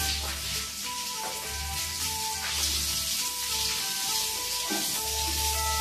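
Tap water running steadily during washing, a continuous hissing, splashing stream at moderate level with no pauses.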